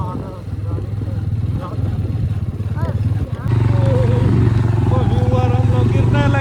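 A large motorcycle engine drones steadily while struggling through deep sand on a rough dirt track toward the Ravi River, with a voice talking over the constant engine note throughout.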